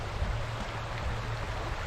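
A river flowing steadily at a sunny filming location, a faint, even wash of moving water with no distinct splashes, heard alone.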